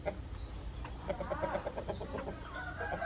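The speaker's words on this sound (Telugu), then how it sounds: "హెవీ సైజ్ కాకినమల్లి పుంజన, హెవీ సైజ్ కాకినమల్లి పెట్టనా" Heavy Kaki Nemali chickens, hen and rooster, cluck repeatedly in a busy, close farmyard with other fowl calling around them and a steady background din.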